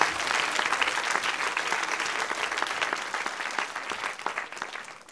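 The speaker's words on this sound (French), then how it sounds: "Et on peut l'applaudir." An audience claps in a studio setting, a dense, lively burst of many hands that stays strong before tapering off at the close.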